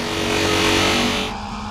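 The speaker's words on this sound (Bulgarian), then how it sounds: "Този двигател нещо много странно започна да звучи." Car engine sounding strange while shifting into fifth gear on a long road drive: a steady, loud mid-pitched droning hum with a faint tonal whine, holding briefly before dropping off partway through.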